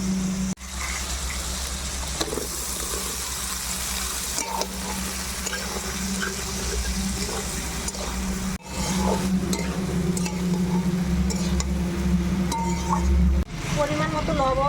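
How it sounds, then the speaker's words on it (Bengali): Fried mixed vegetables are stirred into sizzling spices with green chilli and cumin paste for navratan curry, giving a steady close frying hiss with scraping stirs throughout and a brief break midway. "এখন আমি ভাজা সবজিগুলো মশলার মধ্যে ছেড়ে দেবো।"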